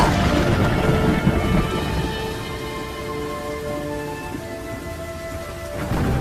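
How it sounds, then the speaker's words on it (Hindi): Heavy rain pours steadily with rumbling thunder, joined by sustained musical tones, like a dramatic cartoon storm effect. "फिर एक दिन गांव में जोरों की बारिश शुरू हो गई।"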